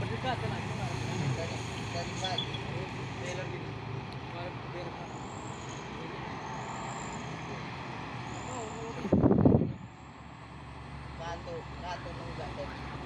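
A Trinton intercooler truck carrying a load rumbles steadily nearby in roadway traffic, with voices talking over it, then a sharp, loud hiss of air brakes bursts out near the end before the engine settles back to a lower drone.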